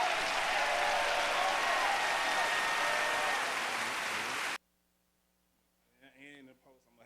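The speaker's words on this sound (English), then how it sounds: "Everybody clap it up for Sandman." Audience applause fills a room for a performer, loud and steady for about four and a half seconds before cutting off abruptly into quiet, followed by a brief voice.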